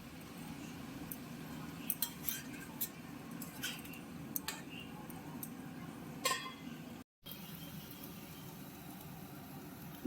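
A spoon stirs a cooking pot of bitter gourd and a lid goes on, producing scattered sharp metallic clinks and taps against a quiet kitchen background, close and moderately soft, with no speech.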